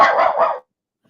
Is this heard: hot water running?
no